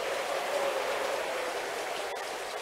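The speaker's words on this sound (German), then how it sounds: "Jetzt regnet es auch." Steady rain with wind falls in the horror video game Our Lady of Sorrow, an even hissing wash at moderate volume with one brief tap near the end.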